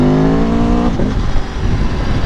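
Aprilia Tuono V4 Factory motorcycle on its stock exhaust, a loud close engine note held high then dropping off sharply as the throttle closes, leaving rumbling wind and road noise.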